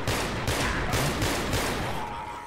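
Rapid gunfire in the zombie shooter Left 4 Dead 2, a dense volley of loud, close shots repeating in regular bursts roughly every half second with no talk over it.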